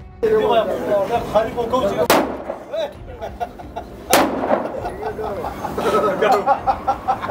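Two loud, sharp gunshots from a handmade gun in Pakistan crack about two seconds apart, close by, with people talking and chattering throughout.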